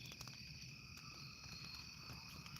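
A single cricket chirps in a shrill, steady, high trill, faint and close, over a low background hum with no voices.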